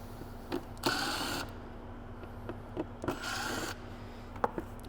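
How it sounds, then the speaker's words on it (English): A T20 screwdriver works the screws out of a car filter box cover on an A45 S AMG, making two faint bursts of scraping, rasping turning about two seconds apart, with small clicks and taps between them. "we'll swap that out and remove the screws on the filter box cover"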